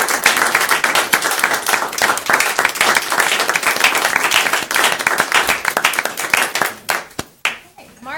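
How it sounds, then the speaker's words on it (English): Townspeople at a Board of Selectmen hometown hero awards ceremony clap in a loud, dense burst of applause that tapers into scattered final claps after about seven seconds. "We'll still clap for her."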